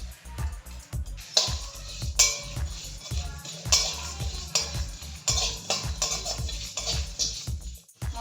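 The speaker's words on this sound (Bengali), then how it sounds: "আমি এখন মশলাটাকে ভেজে নিচ্ছি।" Whole spices, including cinnamon, black pepper, nutmeg and mace, dry-roasting in a hot aluminium pot: repeated light scraping and stirring knocks with faint crackles, close and irregular, with no talk over them.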